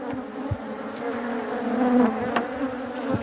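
Bees buzz steadily close by at a hive with a bee escape, a continuous droning hum with individual insects passing near, no voices.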